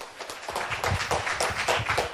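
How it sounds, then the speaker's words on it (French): An audience at a departmental children's reading competition final applauds a young reader, a dense run of many overlapping hand claps that swells and keeps going, fairly close and loud. "on peut l'applaudir bien fort effectivement"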